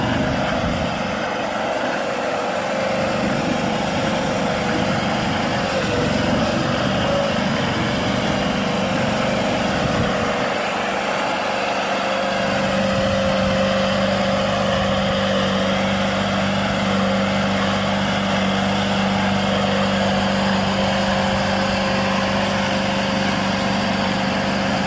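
A homemade tank drives on new road wheels, its small engine droning continuously with a shifting whine that rises and falls as it moves.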